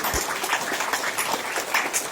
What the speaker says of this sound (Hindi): जोर से ताली दीजिए कि डांस अच्छा लगा